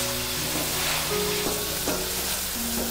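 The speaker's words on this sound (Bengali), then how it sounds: "খুব ভালোভাবে মশলাগুলোকে এবার কষিয়ে নিতে হবে" Spice masala sautéing in a pan with oil for a Bengali rohu fish curry, a steady close sizzle with occasional stirring scrapes running throughout, no talk.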